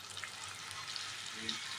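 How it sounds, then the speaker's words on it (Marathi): Fresh grated coconut sizzles steadily in hot oil for a tempering, a soft, even frying hiss at moderate loudness with no talk over it. "आणि तो छानपैकी परतायचा."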